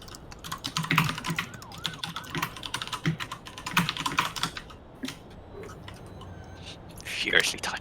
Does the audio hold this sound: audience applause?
no